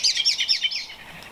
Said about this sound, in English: Birds. They probably know that there's seed about.